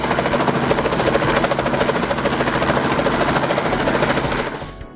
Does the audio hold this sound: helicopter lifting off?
yes